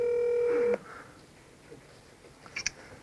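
A steady phone tone cuts off, followed after a pause by a few quick, faint dialing beeps from a handset.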